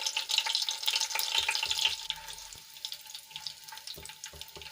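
Whole spices such as cloves, curry leaves and a bay leaf sizzle in hot oil for a Rajasthani pakoda kadhi, a busy crackling spatter that is louder at first and then settles, with scattered pops and no voices.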